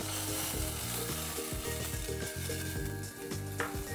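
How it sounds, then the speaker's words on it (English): Coffee poured into a pan sauce for a steak dish sizzles and fries loudly and steadily for a few seconds, with no talking over it. "Let's add our coffee."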